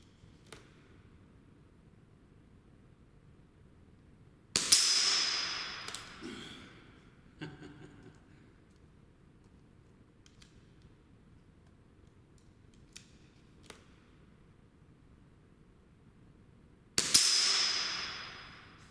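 A BSA R10 Mk2 .177 special limited edition air rifle fires two pellet shots at an indoor target range, each a sharp loud crack with a brief ringing tail, spaced far apart over a quiet background with faint small clicks between.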